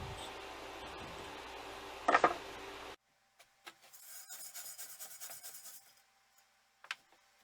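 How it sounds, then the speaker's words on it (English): An extremely fine file rasps across the old teeth of a horse-drawn New Idea Deering mower, first a steady close scraping, then a series of short, lighter strokes in quieter surroundings. "Now this is a special file. It's not coarse at all. It's actually extremely fine."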